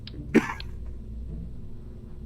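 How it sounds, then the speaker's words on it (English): A single short cough bursts out close by, then only quiet background remains. "Sorry for my coughing."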